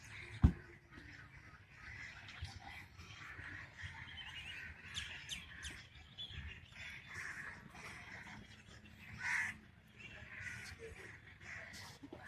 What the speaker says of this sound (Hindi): आसमान पे ये नज़र ना आए ऐसा हो ही नहीं सकता। और ये बिल्कुल परिंदों से भरा हुआ है।